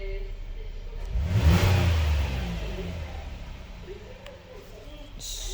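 A 2022 Hyundai Palisade engine settles at idle, then its revs swell briefly and fall back to a steady running drone, heard close and moderately loud with no talk.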